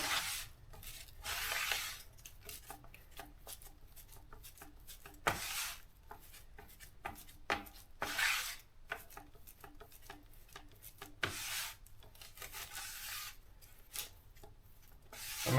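Budget Bondo body filler is worked with a spreader, giving faint, close scraping and smearing strokes in irregular bursts against a quiet background.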